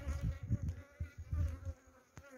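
Killer bees buzzing around an opened beehive while a honey super is being added, a close, fluctuating drone with pulsing bursts, fairly quiet and without talk.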